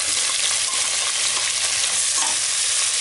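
Large onions frying in hot oil for Thalapakatti-style mutton biryani make a steady, loud, close sizzle that stays even throughout, with faint stirring beneath and no talk.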